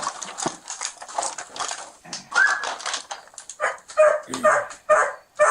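Several dogs, one of them a husky, bark, yip and whimper in quick overlapping bursts close by, loud and restless throughout.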